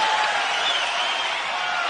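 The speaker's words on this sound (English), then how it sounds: "Crowd totally engaged here 4 minutes in." A UFC arena crowd during the Anderson Silva versus Israel Adesanya fight, a dense, continuous roar of cheering and applause at an even level throughout.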